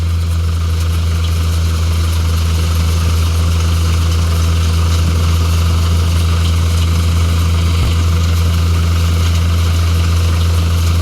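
A Shree Balaji thresher running on coriander and chickpea crops gives a loud, steady mechanical drone with a strong low hum, unbroken and close throughout.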